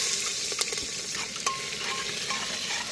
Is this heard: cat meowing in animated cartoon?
no